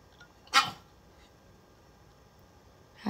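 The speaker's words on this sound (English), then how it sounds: "She's just sitting there barking at me." A small pet dog barks indoors in a bedroom, two short, sharp yaps a few seconds apart, fairly faint against a quiet room with no talking.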